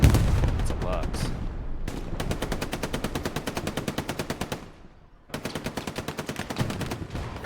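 Sustained machine gun covering fire in the Hell Let Loose World War II shooter, rapid evenly spaced bursts running for several seconds, a brief lull, then another long stream of shots, loud and steady.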